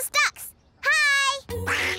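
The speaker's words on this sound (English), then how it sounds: "there are those ducks" Cartoon ducks quack in a short burst of calls by a pond in an animated children's show, with childlike vocal bursts between the quacks.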